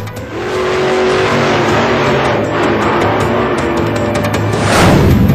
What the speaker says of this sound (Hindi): दो 200 किलोमीटर की स्पीड से बाइकर्स हंगामा मचाते हैं।